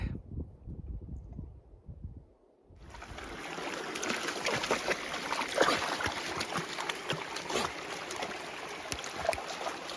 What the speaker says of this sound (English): I took Daisy down to the creek for a drink.